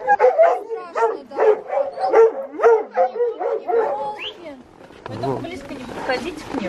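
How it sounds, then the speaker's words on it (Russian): Hunting dogs at a hunting club bark and yip in a quick, loud, close series, then a lower, busier stretch of barking and background noise; a person speaks nearby. "Ой, какая собачка!"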